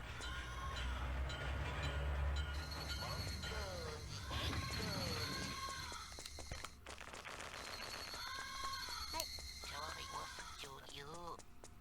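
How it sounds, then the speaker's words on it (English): A train in the video game Chulip rumbling in and slowing with squealing brakes, followed by chimes and clattering station noise; talk is heard faintly. "Here comes the train."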